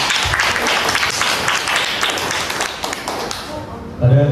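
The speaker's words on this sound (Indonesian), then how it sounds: "Boleh tepuk tangan dulu teman-teman." An audience at an Indonesian focus group discussion on internationalising the Indonesian language claps together, a dense, even patter of hands that fades out after about four seconds, followed by a brief low thump.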